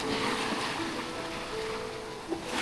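Strong ocean surf at Playa Pino beach in Bagac, Bataan, a continuous broad wash of breaking waves with wind, steady and fairly close, with no talk.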